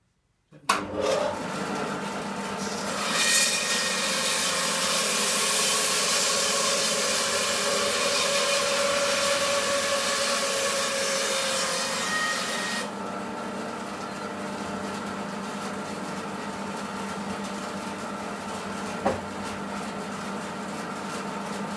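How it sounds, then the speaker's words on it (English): A woodturner's bandsaw cutting a short box elder log runs with a steady, loud whirring whine that drops off abruptly partway through as the blade is stopped without a foot brake. A lower hum continues after that, and a single knock follows later. "the bandsaw doesn't have a foot brake on it, so that's the way I stop the blade."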